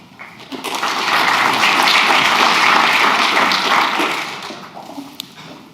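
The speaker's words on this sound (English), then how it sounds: "it's nice to get the applause then already" An indoor audience at a TU/e MedTech Day event breaks into applause. The dense clapping swells quickly, holds steady for about three seconds, then fades out with a few last claps.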